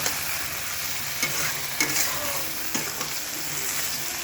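A mustard and green chilli paste sizzles steadily in a hot pan, with a few soft scrapes and taps from a spatula stirring it, close up and without talk.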